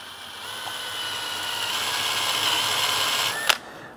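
A power drill bores screw holes deeper into a wooden native bee box, whirring steadily up close for about three seconds before ending with a sharp stop.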